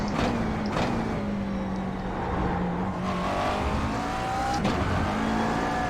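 A GT3 race car in iRacing roars through its gears, the engine note climbing and dropping with shifts, tires hissing on the track, loud and close with no talking.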